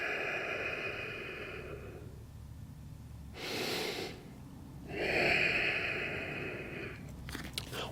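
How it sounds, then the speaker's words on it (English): Slow, deep nasal breaths during a guided breathing exercise in a golf fitness routine, a couple of soft, airy inhales and exhales heard close up over a faint background hiss, with no talking. "In through your nose, out through your nose."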